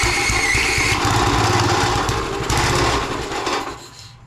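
A repaired garden tiller's small engine runs close by, a loud rapid chattering putter that holds steady, then dies away at the end as it shuts down, no talk over it.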